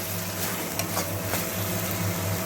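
A spice paste of onion and garlic is stir-fried in a pan for a prawn malai curry, giving a steady close sizzle with a few light scraping clicks from stirring, and no voices.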